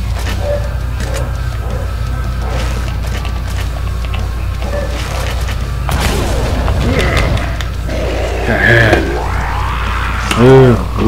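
A rocket blast booms in Resident Evil 4, a heavy explosion with a rumbling tail and clattering debris, followed by whooshing, ringing game effects layered over continuous background score.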